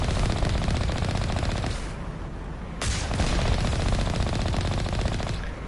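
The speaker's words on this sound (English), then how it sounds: "I love that gun sound." Rapid, continuous machine gun fire from a weapon in the Mass Effect video game. Two long, loud, sustained bursts are split by a brief pause.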